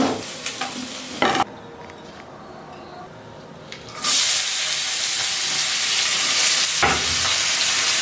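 Onions fry in a pan with oil, starting with a few stirring scrapes, dropping to quiet for a few seconds, then a loud steady sizzle takes over with another scrape near the end.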